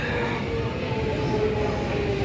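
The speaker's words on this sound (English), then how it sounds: "The train cometh." London rail train rolling into a station platform, a low steady rumble with a faint whine, heard close and unbroken.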